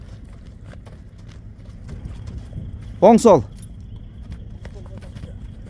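A Kyrgyz horse being ridden clip-clops with a steady run of light hoof knocks, while a voice briefly calls out partway through.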